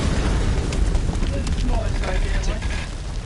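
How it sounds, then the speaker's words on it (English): A grenade goes off in the survival horror game House of Ashes, a loud, sustained rumbling blast with broad crackling debris filling the whole stretch, steady and dense rather than a single sharp crack, with voices faintly mixed in. "Oh, grenade."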